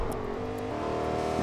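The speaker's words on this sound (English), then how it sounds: "Someone's driving by." Video game car driving past, a steady close engine drone with a rising whine over a brief moment, with no voices.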